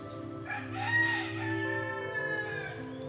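Chickens on a homestead crow and cluck in a long drawn-out call with sustained tones, heard at moderate distance against steady background noise with no talking.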